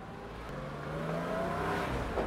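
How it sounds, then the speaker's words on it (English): Inside a Porsche 911 driven with its door panels removed, road noise and engine hum fill the cabin with a steady, close rumble and a faint rising whine. "Just a lot of road noise because I don't have any of my door panels on"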